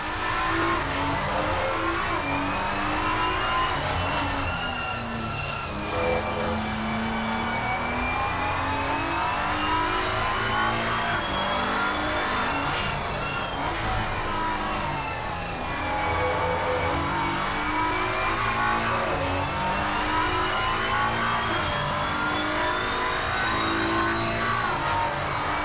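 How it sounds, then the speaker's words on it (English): GT3 race cars, including a BMW and a Ferrari 296, lap Brands Hatch in the sim racing game Assetto Corsa Competizione, with engines droning loudly and continuously, pitch rising and falling through gear changes and corners, and a brief tire squeal. "Now we can just sit back and enjoy seeing Steve Hancock in the BMW chasing down Andy Gore in the 296 Ferrari."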